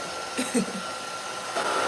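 A steady whooshing hair dryer drying watercolor paint on paper runs throughout, a broad constant blowing hum with small bumps in level.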